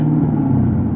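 A Camaro at a car meet growls with a deep, steady engine rumble, loud and close, holding a low throbbing tone for the full second without a clear rise in pitch.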